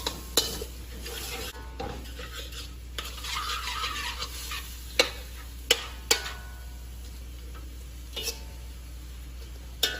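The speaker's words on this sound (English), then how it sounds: "We'll saute this around for about 2 minutes" Sprouts, snow peas and rice sautéing in a pot: continuous sizzling under repeated sharp utensil knocks and scrapes against the metal at irregular intervals, close by, over a low steady hum.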